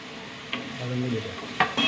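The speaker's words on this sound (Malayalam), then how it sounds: "നന്നായിട്ട് ഒന്ന് എണ്ണ തെളിയുന്നവരെ ഇളക്കണം" A spoon scrapes and clinks in a pan of tomatoes frying in oil, with soft sizzling underneath and a few sharp taps of utensil on metal, close and quiet.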